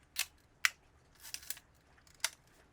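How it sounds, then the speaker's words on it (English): Shutter of a 1960s mechanical rangefinder film camera with a broken light meter, several sharp quiet clicks spaced about half a second apart, close and isolated against near silence. "Its shutter sounds like this."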